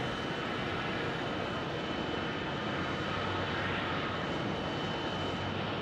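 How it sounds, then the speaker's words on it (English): A United Airlines airliner arriving from Newark at Phoenix Sky Harbor Airport, heard as a steady, loud, broadband engine roar that holds constant throughout without a break, with no voices over it. "United Airlines coming in from Newark."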